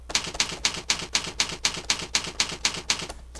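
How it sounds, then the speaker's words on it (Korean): A keyboard space bar is pressed repeatedly in a steady, even rhythm of about a dozen crisp, close clicks over a low background hum. "스페이스바를 눌러서"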